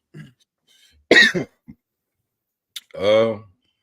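A short, harsh cough bursts out near the microphone, followed by throat clearing and a voiced sound, separated by silence and a few clicks.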